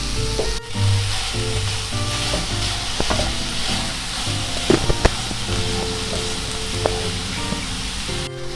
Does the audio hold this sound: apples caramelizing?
yes